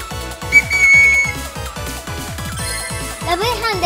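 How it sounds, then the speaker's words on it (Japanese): A Lovepatrina toy police whistle from the Police x Senshi Lovepatrina line gives off shrill, bright whistle tones with chirpy electronic jingles, sounding loudly in short bursts over cheerful background music and a voice. "ラブ違反カード付き、ラブパトホイッスル。"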